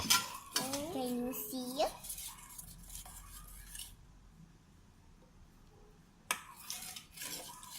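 A slime mixture of glue and other ingredients being stirred in a bowl, with scraping and clinking of the utensil in bursts, a voice and other speech over it and a quieter pause in the middle.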